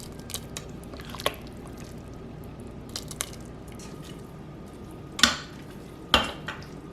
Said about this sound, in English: So let me give it a little stir.